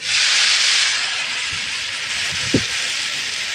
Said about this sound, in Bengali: আমি এক মগ জল দিয়ে দিচ্ছি এর মধ্যে